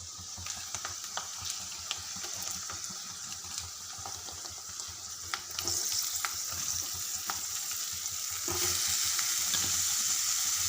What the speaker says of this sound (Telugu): ఇప్పుడు ఉడకబెట్టుకున్న చిక్కుడుకాయలు వేసుకుందాం.